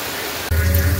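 Steady rain hisses close by, a broad wash of noise that swells louder halfway through as a low rumble joins it, with no voices.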